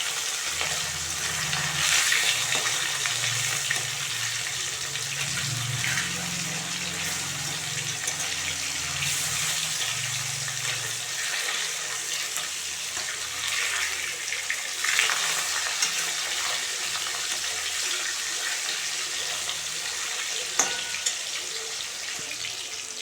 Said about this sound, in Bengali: রুই মাছগুলো মেখে রেখেছি 5 মিনিট, সেগুলো এখন ভেজে নেব। হালকা করে ভাজবো